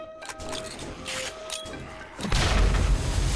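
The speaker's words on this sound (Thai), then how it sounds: "ระเบิดไฟ" A fire bomb explodes in the 7 Days to Die video game, bursting into a loud, dense boom with crackling roar partway through and continuing to the end, over earlier quieter game ambience.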